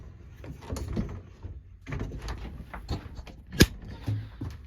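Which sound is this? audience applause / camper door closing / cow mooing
camper door closing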